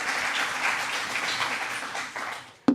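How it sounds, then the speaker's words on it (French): Audience applause at a talk on the art of asking questions, a short burst of steady clapping from a seated crowd that tapers off at the end. "on peut les applaudir"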